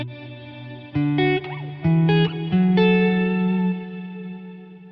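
Harmonic synth or instrument chords passing through a Valhalla Room reverb plugin set to 0%, with a dry, steady, loud sound that changes pitch in a few steps and then rings out and fades over the last second.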